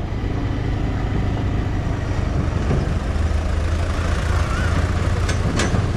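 A tractor engine rumbles steadily and loudly on a road in Phidim bazar, Nepal, a continuous low drone with mixed street noise and no clear break.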